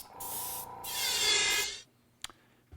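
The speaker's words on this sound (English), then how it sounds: "Next thing I want to show you is running some clear coat through the gun" Airbrush spray gun spraying clear coat finish such as shellac gives two steady hissing bursts, the second louder and longer, before cutting off to a couple of faint clicks.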